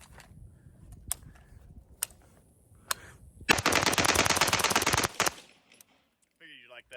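A 903 Tactical battle rifle fires on an outdoor shooting range: a few single loud shots spaced apart, then a sustained rapid burst of about a second and a half, followed by silence and faint sounds.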